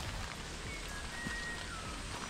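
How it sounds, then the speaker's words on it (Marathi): Rain falls steadily at a hill fort, a soft, even patter and hiss throughout, with a faint thin bird whistle briefly heard in the distance. "फक्त पावसाचा आणि पक्ष्यांचा आवाज आम्हाला ऐकू येत होता।"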